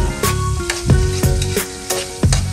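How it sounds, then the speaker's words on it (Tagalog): Onions sautéing in a pan for Filipino mung bean stew, loud continuous sizzle punctuated by repeated spatula scrapes and knocks roughly every half second, close up, with a steady hum underneath. "Isahin mo yung sibuyas until mag-brown po siya."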